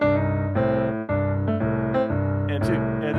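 Four plucked notes climbing the opening of the A blues scale, each struck cleanly and left to ring with rich sustained overtones, followed by a brief higher flourish near the end.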